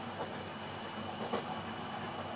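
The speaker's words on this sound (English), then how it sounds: "so I've been on the train for just over 6 hours now." Interior rumble of the slow Trans-Asia Express train running through Turkey toward Iran, a steady broadband roar with faint rhythmic rail clatter throughout and no talking.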